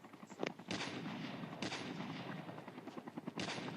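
Rapid bursts of gunfire and a thudding helicopter rotor in a video game, quiet and continuous, with sharp repeated cracks.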